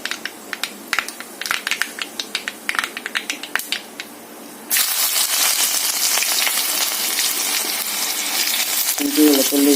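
Ginger, garlic and green chilli with curry leaves hit hot oil in a pan for Kerala egg roast, starting with scattered crackling pops and then breaking into a loud, steady sizzle, with a voice speaking briefly near the end.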